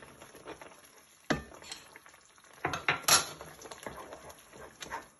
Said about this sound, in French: Vous remuez et vous couvrez et vous laissez frire juste un peu.